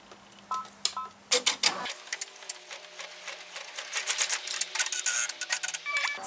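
An embroidery machine sews a tack-down stitch on vinyl for an in-the-hoop mini composition book cover. A few light clicks come first, then a close, rapid run of mechanical stitching that chatters steadily to the end.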